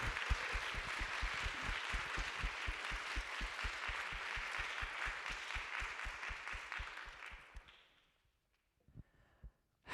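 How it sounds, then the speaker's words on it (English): Audience at a university speech contest applauding the performances, a dense steady clatter of many hands that holds for about eight seconds before quickly dying away to near silence with a couple of stray claps. "Please give them a big round of applause."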